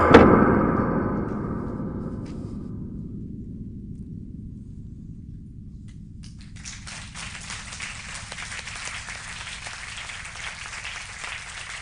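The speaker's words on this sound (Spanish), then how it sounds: "pero gracias por los aplausos" After a dramatized reading of texts by Humberto Maturana, an audience's applause rises as a distant, dense patter of many hands, following a loud low thud and a fading rumble at the start.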